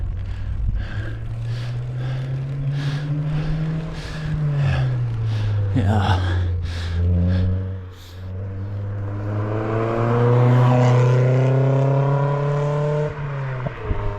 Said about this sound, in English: Sounds like a fast car.